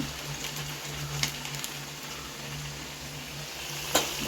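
Jackfruit fritters deep-frying in oil, a steady bubbling hiss with a few sharp pops, close by and moderately quiet.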